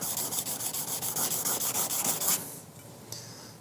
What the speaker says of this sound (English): And then we're going to go to the fine stone, 90 degrees,